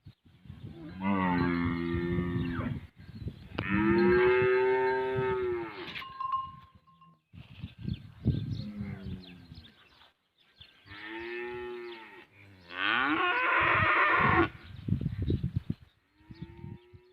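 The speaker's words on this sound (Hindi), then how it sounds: "हम जा रहे हैं भैंसों के साथ, मतलब जानवरों के साथ, गायें भी हैं भैंसें भी हैं" Cattle and buffalo being led to a village pond for water in rural Punjab, with repeated loud, long moos and lowing calls close by, several overlapping, separated by short pauses and quieter shuffling.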